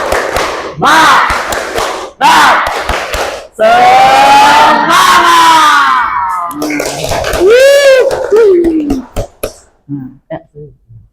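A classroom of students shouts a rhythmic clapping chant, loud voices rising and falling between bursts of sharp, clustered hand claps, ending in a few scattered claps.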